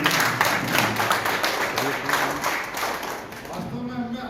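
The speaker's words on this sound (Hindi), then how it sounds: "ताली बजा दो भगत जी" Clapping at a community gathering, a busy patter of hands under continuous talk and crowd murmur, fading somewhat toward the end.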